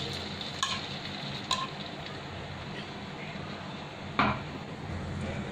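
Beaten eggs poured into a hot pan for a Spanish omelette sizzle steadily and close by, with a few soft clinks of utensils against the pan.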